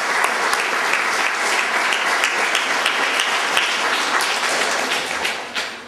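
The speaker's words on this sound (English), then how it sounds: "I think you all ought to give yourself a big clap" Primary school children give themselves a big round of applause, a dense, lively burst of many small hands clapping together, loud and close, fading slightly at the end.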